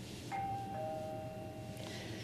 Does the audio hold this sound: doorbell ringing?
yes